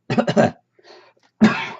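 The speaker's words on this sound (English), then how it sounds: "I'm coughing again, look, see?" A person coughs twice in quick succession, followed by a softer breathy clearing and then another harsh cough, close and loud.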